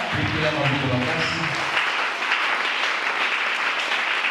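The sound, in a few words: church congregation applauding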